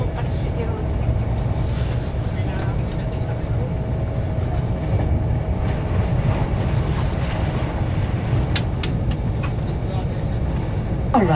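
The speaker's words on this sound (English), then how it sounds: "this is our train just in now" A train arriving at Wigan North Western station rumbles steadily nearby with a low engine drone and faint squeals, continuous throughout with some background activity.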